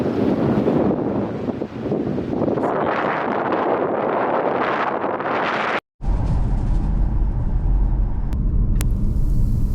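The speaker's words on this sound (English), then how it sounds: "This area is so windy." Strong wind roaring against a car driving through the open, windmill-dotted high country of Dolly Sods, a loud steady rush and rumble with a brief dropout partway through, and no speech.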